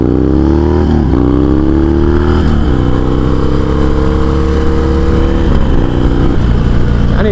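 Harley-Davidson Sportster motorcycle riding along, its engine droning steadily with repeated rises and dips in pitch as the rider works the throttle and shifts, loud and close throughout.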